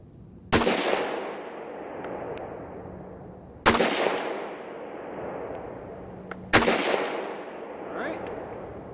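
Three loud, sharp gunshots spaced a few seconds apart, each with a long echoing decay, fired outdoors while testing a Holosun Paralow solar-powered sight; faint speech is also present.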